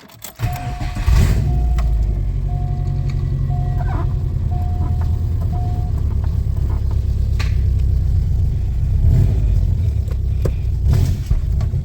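A 1998 Subaru Impreza just converted to a manual gearbox starts moving off, its engine holding a steady low rumble that rises slightly under load, heard close from inside the car.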